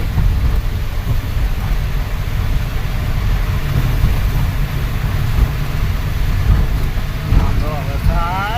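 Steady heavy rain roars without pause on the Somnath highway, mixed with the rushing hiss of traffic on the wet road.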